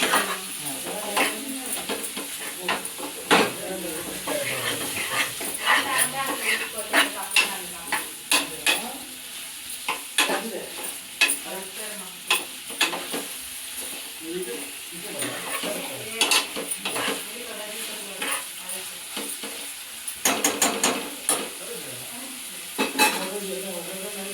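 Mutton for a home-style curry fries in a pot while being stirred, a continuous sizzle broken by frequent sharp scrapes and clanks of a spoon against metal, close and busy throughout.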